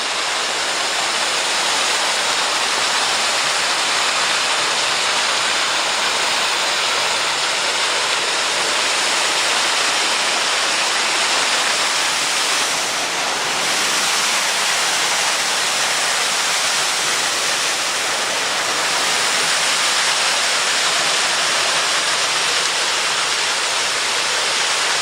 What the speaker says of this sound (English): And up there's our falls.